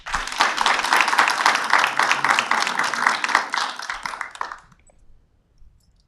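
Audience applause at a school governing board meeting, a dense sustained burst of clapping from a room of people lasting about four seconds, then quickly fading out to near silence.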